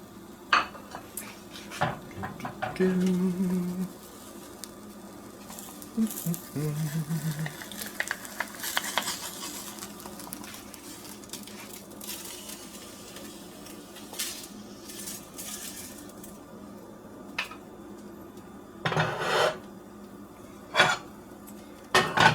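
Scrambled egg whites are transferred onto a plate in a home kitchen, with scattered clinks of a utensil against dishes and a few louder scrapes, fairly close and moderately quiet.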